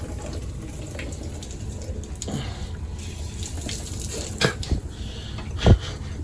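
Water flows from a Burnham heating boiler through a hose during a zone valve repair, a steady close rush of running water with a few clunks and knocks toward the end.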